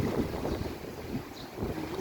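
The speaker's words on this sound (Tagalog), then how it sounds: "Masyadong maalon today kasi high tide siya." Wind buffets a microphone over a steady roar of rough high-tide surf by a boardwalk, with waves surging and rumbling continuously close by.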